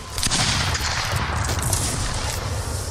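Loud, rapid gunfire from a Mount & Blade siege battle, a fusillade of overlapping shots crackling over a crowd's din with no pause.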